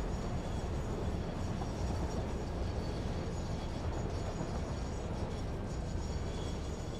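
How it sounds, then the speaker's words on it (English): A train in the game Satisfactory rolling on a hill, a steady, loud, continuous rumble of wheels and carriages that runs unbroken from start to finish. "Now, will you stay braked on this hill, Mr. Train, or are you going to roll on?"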